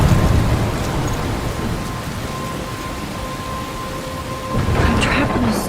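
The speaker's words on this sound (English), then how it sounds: "I'm trapped in a storm?" Video game thunderstorm in Wuthering Waves: heavy rain hissing steadily on surfaces with deep rolling thunder swelling at the start and again near the end, loud and enveloping, no voices.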